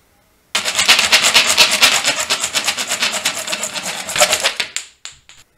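A Dollar Tree hand saw cuts plastic with fast, dense rasping strokes, loud and close, running steadily before breaking into a couple of short final scrapes.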